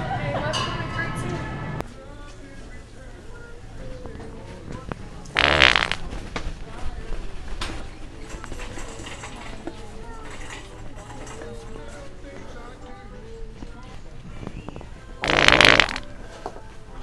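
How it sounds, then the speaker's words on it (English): Two loud fart sounds from a prank in a Walmart store, each a short, raspy burst several seconds apart, close and prominent over store background noise, with a person talking at the start. "I farted on these next two girls you're about to see at Walmart"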